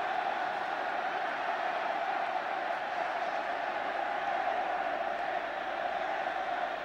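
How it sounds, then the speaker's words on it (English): Steady, dense crowd roar at a 1983 England versus New Zealand rugby test match, a continuous wash of distant massed voices holding at an even level throughout with no single voice standing out. "What a roar of support from the crowd."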